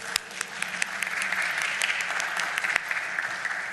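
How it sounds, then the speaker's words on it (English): A conference audience claps steadily for a few seconds, a dense wash of applause with a few sharper claps standing out. "Give her a round of applause"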